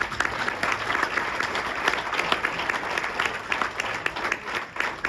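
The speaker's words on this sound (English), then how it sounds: "Let's give him another round of applause" A dinner audience at a charity gala in Fort Myers applauds a speaker, steady dense clapping from a crowd lasting the whole stretch at moderate loudness.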